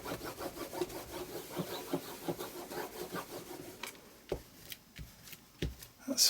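A cloth wiping excess glue off a handmade steampunk-style greeting card, producing soft, repeated rubbing and brushing strokes close up, followed by a few light taps and handling noises.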